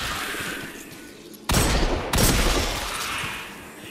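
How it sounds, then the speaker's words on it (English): The Golden Gun fires in Destiny 2, two sharp heavy blasts about half a second apart that ring out loud over steady game ambience, with no voices present. "she raises her hand and burns them down with the golden gun"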